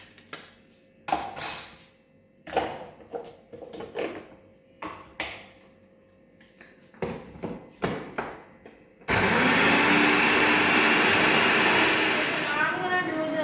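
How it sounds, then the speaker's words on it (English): A blender grinds mixed nuts in a loud, steady whir for the last few seconds, after a stretch of talking and clattering kitchen sounds. "some of the nuts are still not grinded. So we're gonna grind this for a few more seconds"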